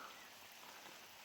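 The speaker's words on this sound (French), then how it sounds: "Et là, ça pleut plutôt pas mal." Steady rain falls outside during work on a dilapidated house, an even hiss of fairly heavy rainfall with no other sounds.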